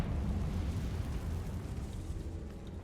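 A Bombarda explosion spell in Hogwarts Legacy gives a dense, rumbling low blast that holds steady for a few seconds and fades slightly toward the end, with no talk over it.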